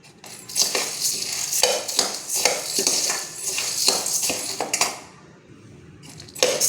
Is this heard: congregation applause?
no